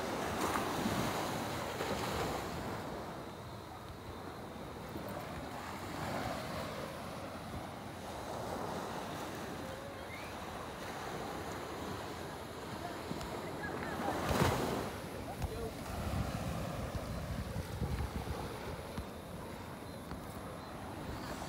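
Surf rolls and washes continuously onto the beach at Carlisle Bay, Barbados, with gusty wind buffeting the microphone and one louder breaking wave partway through.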